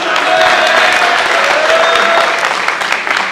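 Audience applause at a Punjabi stage drama, a dense steady wash of clapping that fills the whole stretch at a loud, even level.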